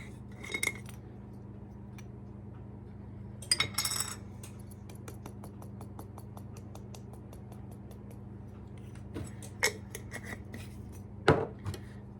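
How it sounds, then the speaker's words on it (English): A spoon stirs cinnamon into a small bowl of sugar, giving a quick run of light, regular metallic clinks and scrapes against the bowl, with a few louder knocks, close and quiet. "Give this a little stir."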